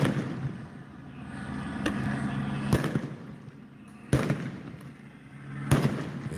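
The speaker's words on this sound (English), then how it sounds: "They letting them flashbangs go." Flashbang grenades going off at a street protest in Los Angeles, several sharp loud bangs spaced a second or two apart over a murmuring crowd backdrop, with brief voices nearby.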